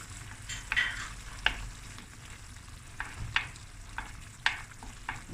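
Tuna fish curry sizzles softly in a pan as coconut cream goes in, a faint, steady frying hiss broken by a few sharp utensil clinks.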